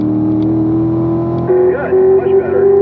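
Race car on a track powering out of a corner toward the apex: a steady engine drone that rises into revving pitch sweeps as it accelerates, heard from inside the car under an instructor's talk.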